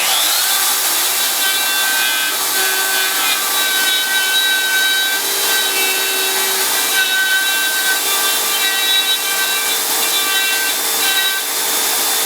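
A router cutter grinds out a battery box cavity in the wooden body of a bass guitar, a loud continuous high-pitched whine with steady tonal overtones, held near and unbroken throughout with no voices.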